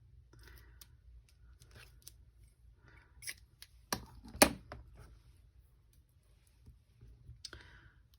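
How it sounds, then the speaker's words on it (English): Scissors cut a small piece of green paper in two, giving a few quiet close snips and clicks in a near-silent room, the sharpest snip coming in the middle. "I just cut mine in 2 pieces here"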